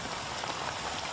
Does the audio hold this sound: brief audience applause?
no